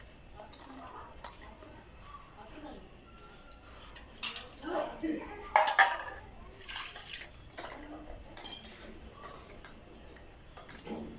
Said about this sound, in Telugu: 2 సార్లు కడుక్కొని తర్వాత నీళ్ళు పోసి నానబెట్టుకుంటా.